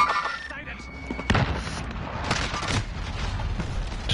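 Gunfire in a shooter video game, with sharp shots and booming reports cracking out in a busy stretch amid game noise, mixed with a player's voice talking.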